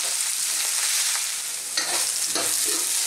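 Chayote and snow peas sauté in a hot pan for pancit habhab, a dense continuous sizzle with occasional stirring scrapes, close and loud with no talking.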